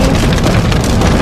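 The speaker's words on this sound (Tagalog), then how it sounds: "Umuulan pa ngayon. It's raining, man." Loud, dense rain patters continuously on a hard surface outside Arena Plaza in Budapest, a steady close wash of drops with no pauses.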